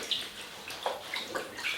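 Fabric being submerged in a basin of room-temperature water for soaking, soft sloshing and gurgling splashes at close range, quiet and intermittent with no speech.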